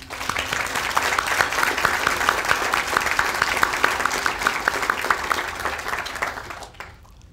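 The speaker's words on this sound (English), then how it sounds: "I'd like to suggest a round of applause for all your generosity." A commencement crowd breaks into loud, sustained applause, dense clapping that holds steady for several seconds before fading out at the end.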